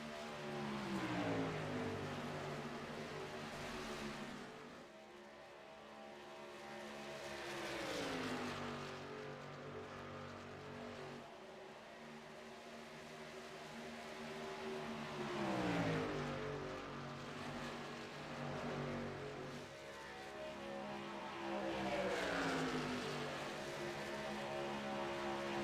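Race truck engines in a sim racing truck series game at Las Vegas, a steady droning whine with pitch sweeps rising and falling as trucks pass and shift, continuous and fairly loud with no talk.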